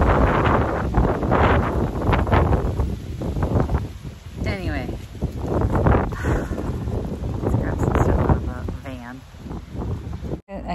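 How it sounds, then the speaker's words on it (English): Strong wind buffets the microphone outdoors in a steady roaring rush, with a person talking over it throughout. "The wind is really bad."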